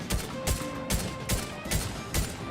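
Rhythmic bursts of video game gunfire, six evenly spaced shots repeating about every half second at moderate volume, with no talking.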